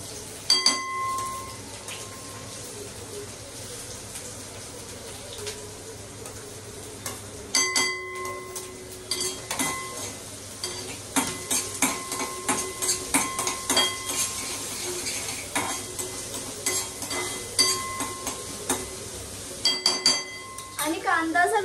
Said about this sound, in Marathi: आता आपण कांदा टाकूयात.